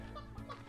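A chicken in the video game Slime Rancher gives short, faint clucks, a couple of quick bursts in under a second.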